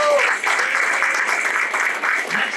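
A crowd at a community event applauds with steady, dense clapping that carries on for a couple of seconds without a break.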